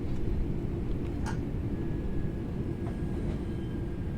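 A train rumbles steadily over track points at 25 into Manchester Airport, with a few faint metallic clicks and a thin wheel squeal above the low drone, in Train Sim World.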